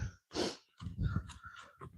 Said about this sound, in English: you'll have to excuse me if I'm puffing and panting a bit